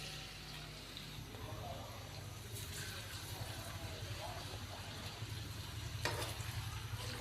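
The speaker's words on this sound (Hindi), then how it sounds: "अब हम इसके अंदर 2 अदद बारीक कटे हुए प्याज शामिल कर देंगे।" Finely chopped onions go into hot cooking oil for a winter aloo methi bhujia, giving a steady, moderately quiet sizzle and crackle that runs through the whole stretch under a low background hum.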